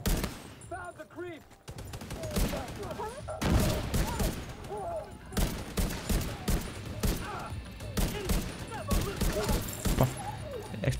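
Rapid bursts of heavy gunfire with explosive ammunition in the video game The Division 2 crackle and boom in repeated volleys, loud and close, with a voice talking between and under the shots.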